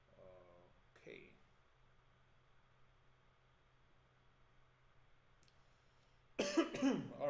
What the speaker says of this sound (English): I don't know what is causing the cough